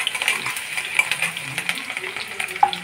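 Cut onions fry toward golden in a pan for a bitter gourd curry. The sizzle is lively and close, broken by frequent stirring scrapes and small metallic clinks of a utensil against the pan.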